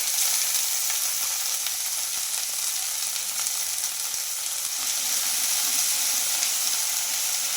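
Fresh coconut pieces and coriander with stems sizzle steadily in a hot pan for a semiya breakfast dish, a continuous close crackling hiss with faint stirring.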